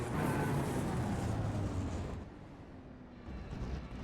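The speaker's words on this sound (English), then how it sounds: "Really see the sounds of a finely tuned engine here." Ferrari GT3 race car engine in a racing video game at Le Mans, a broad steady roar that drops to a quieter drone partway through, then swells again near the end, with no talk over it.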